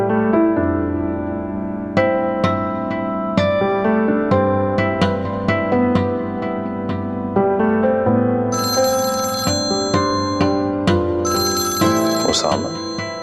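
A telephone rings with a melodic ringtone while a call is being placed. The repeating tune plays loud and steady for the whole stretch.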